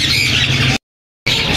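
Sun conure parrot squawking at an outdoor Sunday bird market in Bahawalpur, loud continuous shrill squawks close by, broken by a brief silence before resuming.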